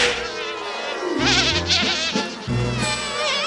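A swarm of bees in a cartoon buzzes continuously and loudly, with wavering pitch and a warbling, sawing hum that rises and falls across several seconds.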